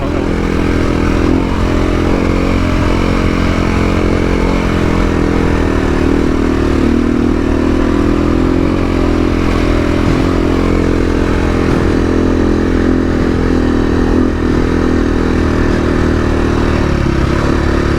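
Suzuki DR-Z dirt bike riding off-road in rural north-west Victoria, its engine droning steadily and loudly throughout with constant rough rumble and wind buffeting, no pauses.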